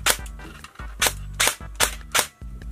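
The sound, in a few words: Gate Titan V3 airsoft AKS74UN AEG firing on 7.4V battery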